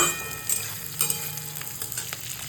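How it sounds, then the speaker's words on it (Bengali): Tomatoes, garlic, ginger and cashews frying in a pan crackle and sizzle steadily up close, broken by several quick scraping stirs, with no talking. "টমেটো রসুন আদা কাজু এগুলো দিয়ে দিচ্ছি একবারে ভাজা মানে লাল করে ভাজা হবে না"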